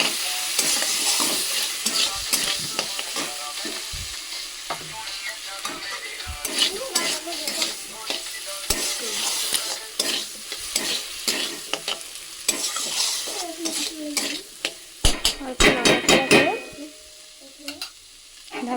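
A ground spice paste is stirred as it fries in a pan, giving a steady loud sizzle with repeated scraping strokes of a utensil. The stirring grows busier and more clattery near the end.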